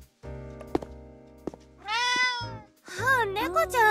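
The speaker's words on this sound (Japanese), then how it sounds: "I pick up the cat rubbing against my legs and cuddle my cheek next to it." A cat in the visual novel game Bustafellows gives two drawn-out, wavering meows, close and clear, after a couple of soft thumps over a faint, steady background tone.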